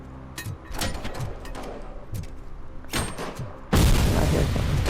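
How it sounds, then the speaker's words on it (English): A grenade blast in the video game RoboCop: Rogue City bursts loud and broadband near the end, following several sharp thuds and impacts from gunfire and debris. "I hear a grenade."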